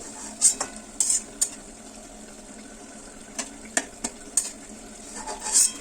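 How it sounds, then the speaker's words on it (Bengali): Nimki pastries deep frying in oil over a medium to low flame, a soft background sizzle broken by sharp metallic clinks and scrapes of a utensil against the pan at irregular intervals. "মিডিয়াম টু লো ফ্লেমে ভাজতে হবে তারপর আবার দিয়েছি একে একে করে সমস্ত নিমকিগুলো আমি ভেজে নিলাম"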